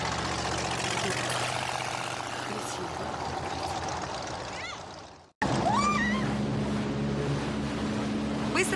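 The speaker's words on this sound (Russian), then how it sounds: "Давай, мужик, заводи свой мотор!" A boat motor idles with a low, steady engine hum amid lapping water, cutting out briefly before resuming, with faint voices in the background.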